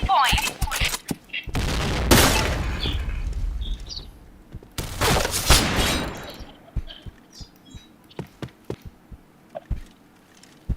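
Gunfire in the Katana online shooter: two loud, dense bursts of shots close by, followed by scattered single cracks and clicks.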